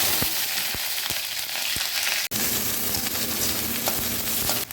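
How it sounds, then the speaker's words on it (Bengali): Onions fry in hot mustard oil in a wok, a steady close sizzle and crackle with several sharp taps and stirring knocks, including one abrupt clack midway. "পেঁয়াজটা হালকা ভেজে নিলাম"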